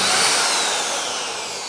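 A power drill spins a brush across a convertible car's fabric soft top, giving a loud, steady whirring and scrubbing noise that fades slightly toward the end, with no talking.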